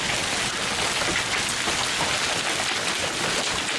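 Heavy rain pours down steadily during a thunderstorm in Mount Pleasant. It is a dense, even hiss with no break, and no thunder or voices stand out.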